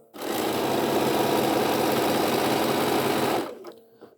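A domestic sewing machine stitches steadily at a 2.3 stitch length for about three seconds, a loud continuous rapid whir that starts abruptly and stops, leaving a faint tail.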